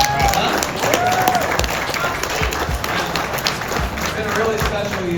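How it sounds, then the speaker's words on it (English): Applause from an amusement park audience at a HalloThriller event at Dorney Park, a steady dense wash of clapping with crowd noise and a voice or two mixed in, fairly loud and continuous throughout. "I think that's worth an applause"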